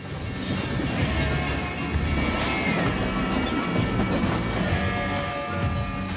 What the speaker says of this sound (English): The line, which passes straight through the middle of town, is still used for shipping freight.